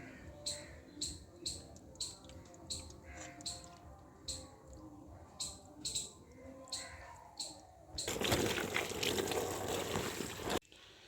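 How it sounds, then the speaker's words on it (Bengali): Washed chicken pieces, including leg pieces, give off a few soft sloshes and drips before a loud, steady rush of water pours off them for a couple of seconds, close by. "মাংসটি ভালোভাবে ধুয়ে নিয়েছি জলটি ফেলে দেবো"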